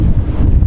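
Strong gale at sea aboard a sailboat, with winds of 40 to 45 knots gusting to 50 and heavy seas: a loud, steady, low roar of wind buffeting the microphone, continuous throughout the short stretch.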